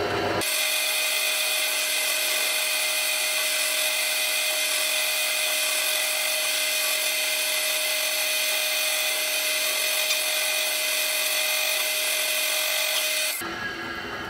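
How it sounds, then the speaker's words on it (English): A power drill drilling a guitar body for a 1958 Flying V build whines at a steady, high pitch for over ten seconds, continuous and close, before cutting off abruptly. "so I can get drilling these now."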